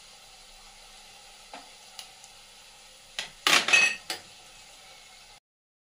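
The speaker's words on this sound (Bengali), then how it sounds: "এবার আমি টাইট করে মেখে নেব।" Sattu dough seasoned with black salt and chaat masala is squeezed and mixed by hand in a bowl. A few soft, close rubbing and squishing bursts break a mostly quiet stretch, then everything stops.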